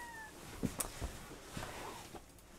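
A kitten meows faintly in a quiet room. A couple of short, soft meows rise briefly over low background hiss, and no one speaks.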